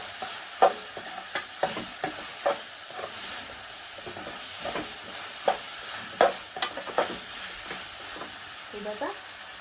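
Tamarind paste for tamarind rice mix being stirred as it fries in a pan, with a steady soft sizzle and irregular scraping knocks of the spoon throughout, close and moderately loud.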